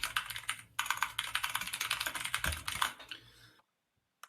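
Rapid typing on a computer keyboard during a competitive game match, with dense clattering keystrokes for about three and a half seconds before falling silent.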